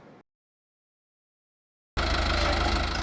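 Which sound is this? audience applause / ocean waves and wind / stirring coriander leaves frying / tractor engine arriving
tractor engine arriving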